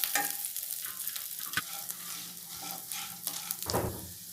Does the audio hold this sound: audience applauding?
no